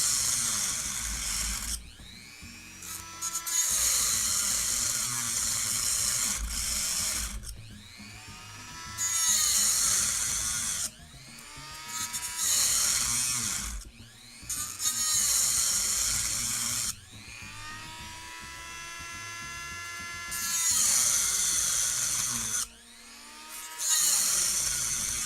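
An off-brand Dremel-style rotary tool starts and stops repeatedly in loud bursts of high-pitched whine, with short pauses between runs and the pitch sliding as the motor spins up and down.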